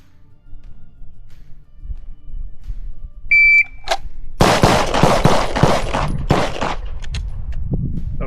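Gunfire from a shooter running a timed box drill: a shot timer beeps, then a rapid string of loud, close shots cracks out in quick succession, trailing off into a few final shots and echoes.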